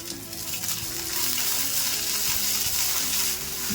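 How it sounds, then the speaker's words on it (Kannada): A handful of coriander frying in a pan for masala curd rice gives a steady, close hissing sizzle that holds evenly throughout, alone, with no talk over it. "ಕೊತ್ತಂಬರಿ ಫುಲ್ ಫ್ರೈ ಆಗಬೇಕಾ?"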